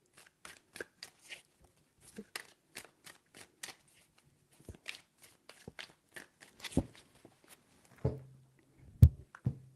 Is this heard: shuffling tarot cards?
yes